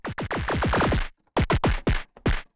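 Heavily saturated anime-style punch hits, distorted through a Decapitator plugin, fire in quick clusters, each a gritty, downward-sweeping thump with bright harmonic crunch, loud and up close with brief gaps between bursts.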